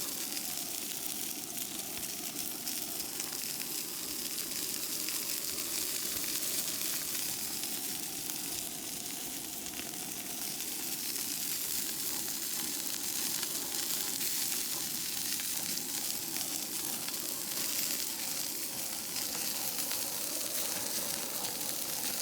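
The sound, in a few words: ribeye steak searing in a cast iron pan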